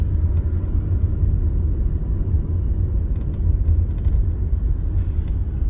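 A low creaking rattle from the chassis of a Tata Nexon car while driving, faint and intermittent under a constant loud road rumble inside the cabin, with no one talking.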